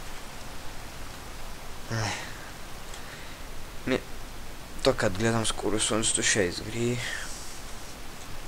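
Steady rain hiss in the Minecraft survival video game forms a constant noisy bed, with someone speaking over it in several short phrases.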